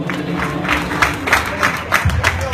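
Brief burst of crowd noise at a live concert, with loose clapping and cheering voices mixing in short uneven surges, fairly close and loud.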